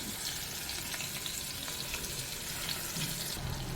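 Ground masala sautéing in a pan for a Tamil-style bottle gourd curry, giving a steady, moderately close frying sizzle with faint stirring scrapes throughout and no voices.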